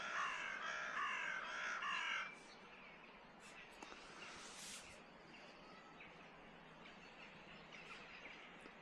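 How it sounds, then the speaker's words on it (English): Crows caw loudly for a couple of seconds, then the calls break off, leaving a faint outdoor hush with only scattered distant sounds. "crows agree."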